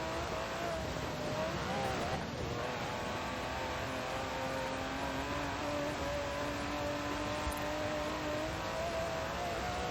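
An Aston Martin DB11's 5.2-litre twin-turbo V12 drones at high revs steadily in Forza Horizon 4, its pitch holding and sliding slightly, loud and continuous with a synthetic, game-like smoothness.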